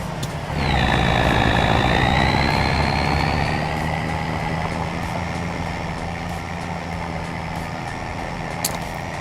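A truck engine idles in Farming Simulator 25, a steady, close, rumbling drone with a high whine that rises at the start and then holds level, with no talking.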